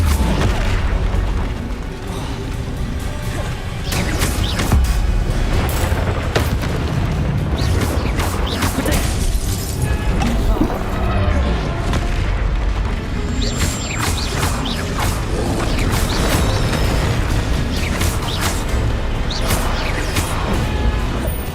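Hogwarts Legacy spell combat: a dense, continuous run of magical blasts, crashes and bursting impacts, loud and busy throughout with layered game sound effects and no speech.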